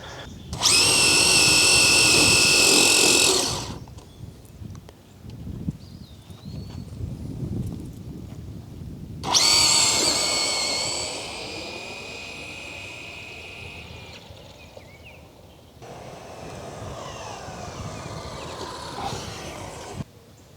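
A Traxxas Drag Slash RC car on a 2S LiPo battery accelerates hard in two loud bursts, a high-pitched electric motor whine that cuts off sharply, followed by a fainter third run.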